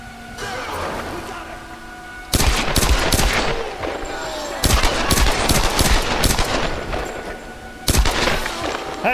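Machine gun fire in Tomb Raider: Definitive Edition on PS4 Pro, three loud bursts of rapid shots separated by brief lulls, with someone talking between them.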